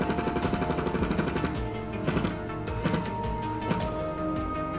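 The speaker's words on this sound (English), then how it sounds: "I installed them using a specialized bit, followed by an impact driver." An impact driver drives stainless steel threaded inserts for an outdoor sign, a loud continuous rapid hammering rattle with dense buzzing tones that runs steadily through the whole stretch.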